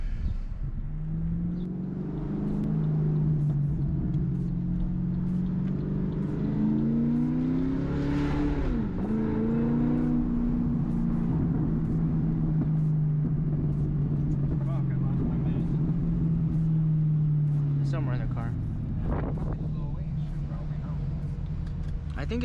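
Pontiac G8 sedan out on the road, its engine humming at moderate level and rising and falling as it accelerates and shifts, with tire and road noise and someone talking over it.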